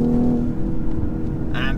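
A 2019 BMW X5 40i engine pulling under throttle, a steady low droning hum heard from inside the cabin, with a brief whooshing rise near the end.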